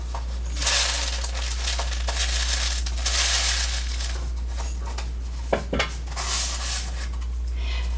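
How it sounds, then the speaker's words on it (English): Dry rice grains pour and rattle into a homemade shaker, giving a hissing patter of tiny impacts in bursts, with a sharp clatter partway through and a steady low hum beneath. "So I filled it halfway up with rice"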